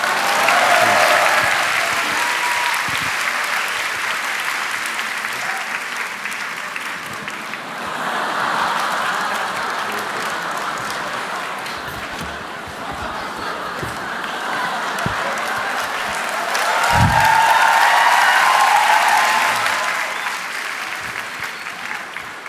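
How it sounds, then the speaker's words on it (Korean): A church congregation claps steadily for a long stretch, the applause swelling and easing in waves with a few soft chuckles mixed in. "박수로."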